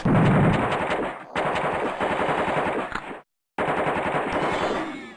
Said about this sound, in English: when they shoot at you, you should have a little bit of room to move.